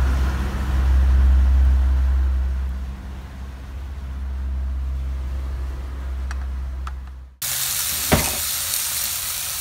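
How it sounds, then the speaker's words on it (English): Bluefin tuna frying in a pan with a steady, close sizzle and low background hum, then the sound cuts abruptly to a brighter, hissing spatter. "it's a bluefin tuna. We fry it just half-half."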